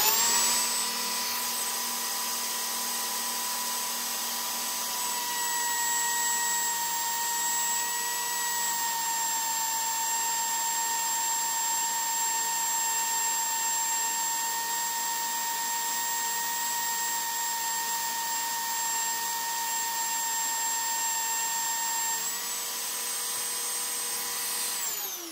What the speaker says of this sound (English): now the sandpaper is going to spin in the opposite direction, basically